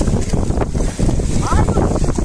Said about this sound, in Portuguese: O vento é forte, galera, mas a gente se vira nos 30. Aí, o mar, a onda cobrindo tudo.